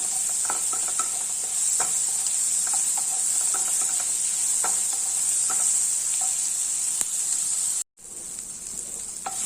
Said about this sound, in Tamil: தக்காளி வதங்கிறத காமிக்கிறேன்